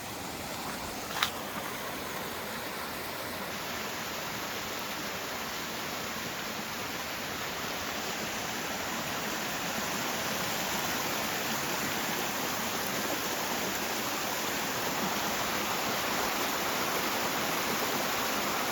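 Steady broadband rush of a small creek flowing over rocks along a springtime Appalachian Trail hike, continuous and fairly even, growing slightly fuller partway through, with no voices.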